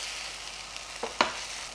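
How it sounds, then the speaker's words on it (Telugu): Drumstick leaves and grated fresh coconut being stirred together in a hot pan, a soft steady sizzle with a couple of light scraping taps of the spoon. "అన్నిటిని కలిపేస్తున్నా"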